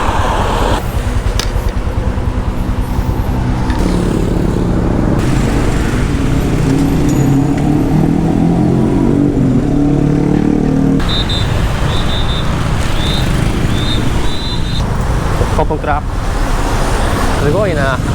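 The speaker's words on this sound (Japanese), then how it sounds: "タイの朝のラッシュです。 やっぱバイク多いね。" Heavy morning rush-hour traffic in Thailand with many motorcycles, engines rumbling and vehicles passing close by without a break; a voice speaks now and then.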